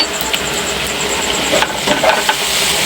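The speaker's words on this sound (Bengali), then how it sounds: "দিয়ে এবার নাড়তে থাকবো।" Semolina upma, sweetened and with peanuts, is stirred in a frying pan, giving a steady loud sizzle with scattered scraping strokes of the spoon.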